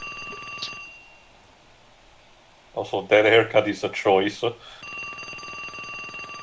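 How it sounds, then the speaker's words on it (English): A telephone rings in the video game Plumbers Don't Wear Ties: a loud, trilling bell burst of about two seconds, with someone talking before it and a steady electronic hum throughout. "Pick up the phone."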